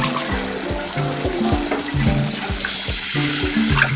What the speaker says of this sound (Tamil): 1 கப்பு அரிசினா 3 கப்பு தண்ணி ஊற்றணும்.